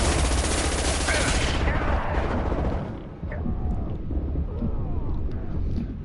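Sustained gunfire and blasts in the video game Mass Effect Legendary Edition, a loud dense rattle of shots that thins after a couple of seconds into scattered bursts and rumbling impacts.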